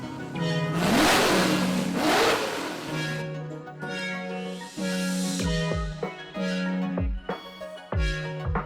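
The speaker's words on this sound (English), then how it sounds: "Sports car." A sports car engine revs loudly in a rising, roaring surge at the start, followed by tonal, music-like sounds and short thumps.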